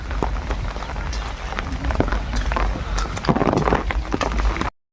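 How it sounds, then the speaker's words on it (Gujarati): Heavy rain pours down on a waterlogged farm field, a dense, loud, continuous patter close by with scattered sharper splashes, cutting off abruptly at the end. "ફૂલ વરસાદ પડે ગયો ફૂલ વરસાદ ચડીને આવ્યો છે"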